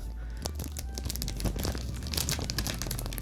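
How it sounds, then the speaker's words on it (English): Plastic wrap peeled off a collector's edition game box, a steady close crinkling and tearing rustle that runs throughout with no voices. "I'm gonna take off the plastic."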